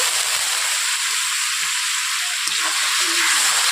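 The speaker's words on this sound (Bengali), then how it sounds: "জল দেওয়ার পর আমি এক থেকে দু মিনিট এইভাবে কষিয়ে নিচ্ছি মশলাগুলোকে" Spices for katla fish kalia, with kalonji among them, fry in a pan after a splash of water is added, giving a loud, close, continuous hissing sizzle with faint stirring.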